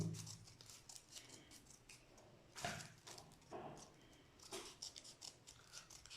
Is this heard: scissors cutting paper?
yes